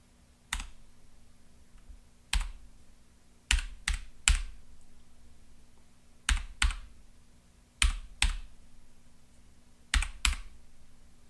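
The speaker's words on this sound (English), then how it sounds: "I'm just going to type in my device ID." Sparse, hesitant keystrokes on a keyboard as a device ID is entered, about a dozen crisp clicks in small clusters separated by pauses, close and fairly quiet over a faint steady hum.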